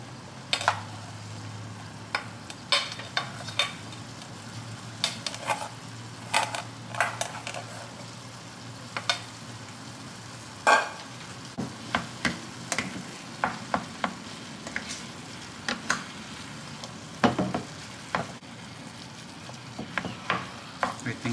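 Rice being stir-fried with bagoong shrimp paste in a pan, with repeated sharp scraping clicks of a utensil against the pan over a steady low sizzle, close and fairly loud.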